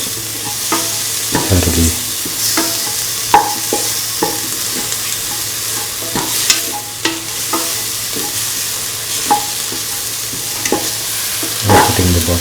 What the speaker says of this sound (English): Saute the cauliflower and tomatoes